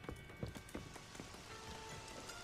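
Rain falls outside in The Witcher 3 video game, a steady soft patter on surfaces with a few heavier footstep-like thumps early on, quiet and continuous with no talking.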